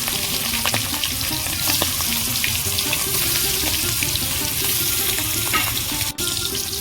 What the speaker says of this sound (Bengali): হালকা করে আমি ইলিশ মাছগুলো ভেজে নেব